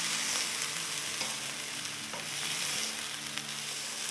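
Diced potatoes sautéing in a pan for a sehri breakfast box with eggs and chicken keema, a steady close sizzle and frying hiss with occasional stirring scrapes, no talk.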